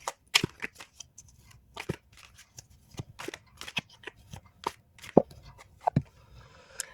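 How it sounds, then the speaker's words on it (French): Oracle cards shuffled by hand ahead of a draw, a run of crisp, irregular slapping and riffling snaps, close and fairly quiet, with no voices. "Je vais tirer une deuxième carte pour avoir plus de précision par rapport à ça."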